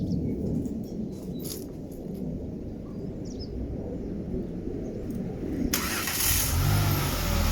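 A Ford Mondeo Mk3 ST220, fresh from a starter motor replacement, idles with a low, close rumble before firing up with a loud burst that fills the last couple of seconds.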